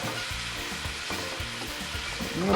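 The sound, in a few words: shrimp sautéing in a pan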